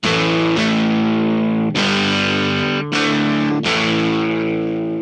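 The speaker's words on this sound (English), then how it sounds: "I'll put my favorite AKAI Distortion Fuzz plugin on insert number 1, right before the amp plugin" Recorded guitar run through an AKAI Distortion Fuzz plugin ahead of an amp simulator in MPC software, loud sustained fuzzy chords struck about four times, each ringing out with thick harmonic buzz.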